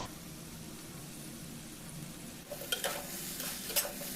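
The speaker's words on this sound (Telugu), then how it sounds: "ఫస్ట్ అంత ఆయిల్లో ఫస్ట్ ఫ్రై చేసుకోవాలి వెజిటేబుల్స్ అన్నీ" Vegetables, including chunks of ridge gourd, fry in a pan of oil: a steady low sizzle and hiss, then from midway a few sharp stirring scrapes and crackling bursts, close and fairly quiet.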